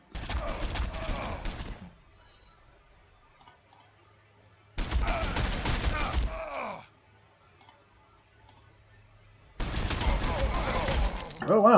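Three separate bursts of rapid gunfire from Ork units in the strategy game Warhammer 40,000: Sanctus Reach, each about two seconds of dense crackling shots with grunting voices, separated by near silence.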